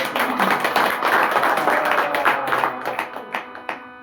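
A gathering at a recitation of the Shri Ram Vijay scripture claps hands in dense, loud applause that thins into a few scattered claps at the end.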